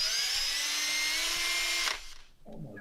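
A power drill whines steadily at high speed for about two seconds, loud and close, then stops abruptly, leaving a short low mechanical rattle afterward.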